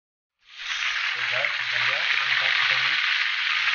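Poisonous fish seasoned with salt and MSG frying in a pan: a loud, close, steady sizzle that bursts in abruptly and holds without a break, with a low voice murmuring faintly beneath it for a moment.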